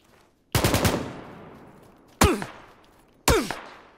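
Three separate bursts of AK rifle fire from the PUBG battle royale game, each a sharp loud crack trailing into a decaying echo, with quiet gaps between them and no talking.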